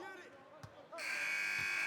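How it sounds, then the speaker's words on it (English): A sustained electronic final buzzer in the NBA 2K21 basketball video game blares loudly after a brief lull, preceded by a ball bounce and a crowd murmur, with commentary in the background. "Final buzzer sounds, and that'll do it."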